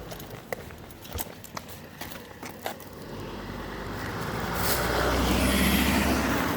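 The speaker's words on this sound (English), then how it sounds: "I'll wait till the car goes." A car passes along a street near a building, its road noise swelling from faint to a loud, broad rush over the last few seconds after scattered footsteps and small knocks.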